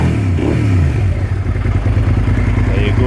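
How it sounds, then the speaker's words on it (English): The engine of a 2005 Suzuki SV650S motorcycle idles at slightly raised revs, a loud, steady, close-up rumble with an even low thrum and some mechanical clatter running throughout. "There's the engine idle speed."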